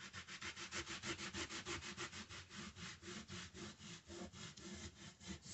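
A sprayed stencil gets scrubbed clean by hand, with fast, steady back-and-forth strokes rasping loudly and close in an unbroken rhythm, no voices present.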